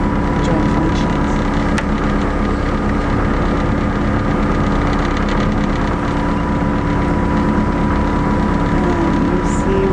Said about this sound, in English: That's the fast ferry.